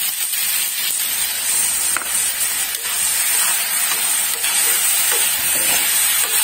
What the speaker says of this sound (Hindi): अब डालूंगी इसमें मैं ये सूप